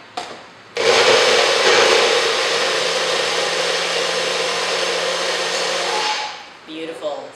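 A small blender whirs loudly while chopping torn bread pieces into breadcrumbs, a steady roaring buzz that runs for about five seconds before cutting off, with faint handling sounds afterward.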